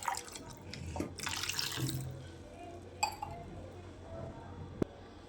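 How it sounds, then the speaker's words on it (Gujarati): Water poured into a pressure cooker holding washed potatoes, a brief close splash and trickle followed by a few metallic clinks, fairly quiet. "પાણી ઉમેરી દઈશું."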